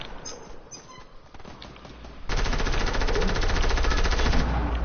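Rapid video-game gunfire erupts about halfway through, a dense, loud automatic burst that keeps rattling to the end after a quieter stretch of scattered background noise.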